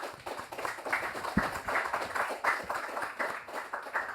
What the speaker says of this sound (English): So please give an applause to our panelists.